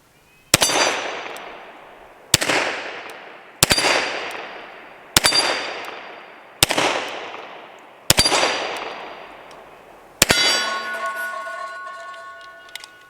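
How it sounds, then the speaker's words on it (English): A Kimber Longslide Target 10mm pistol fires seven loud, evenly spaced shots at close range. Each crack rings off a steel hostage popper target with a metallic clang, and the last shot gives a longer ringing tone. "let's go ahead and put some more rounds through it, because these aren't just for looking at. These are for shooting."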